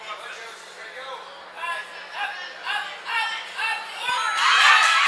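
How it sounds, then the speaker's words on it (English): A crowd at a teen female jump rope regional championship cheers in rhythmic swells of shouting over the steady beat of a rope. The voices grow louder and more excited toward the end. "you can hear the crowd's getting into it too."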